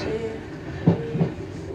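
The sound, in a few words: train running, cab ride from Twickenham to London Waterloo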